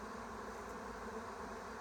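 A honeybee swarm of tens of thousands of bees produces a faint, continuous buzzing hum, steady and distant with no voices over it.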